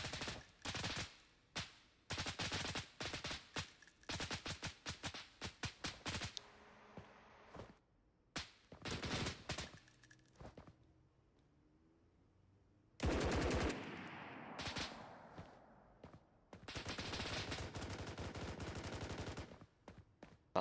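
An M16A2 firing 5.56 rounds in three-round bursts in the game BRM5, rapid clusters of sharp shots repeating in quick succession, with a few pauses and some longer strings of fire.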